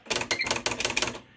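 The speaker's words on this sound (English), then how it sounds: "Now I'm going to type in G" A Smith Corona Spell Right III electric typewriter hammers out a quick burst of about a dozen sharp, close keystrikes in rapid rhythm, then falls quiet.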